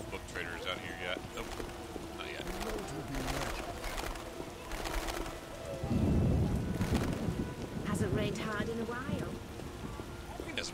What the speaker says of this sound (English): been raining 5 days out here.